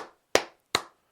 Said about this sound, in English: We'll give you a few claps.